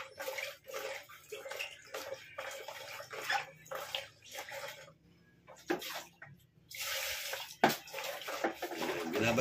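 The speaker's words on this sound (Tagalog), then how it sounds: "Binabad ko muna sa tubig para yung gulay natin hindi siya mangitim" Water running and sloshing over freshly sliced vegetables for pinakbet as they are set to soak, heard up close as irregular splashing bursts with a short lull midway.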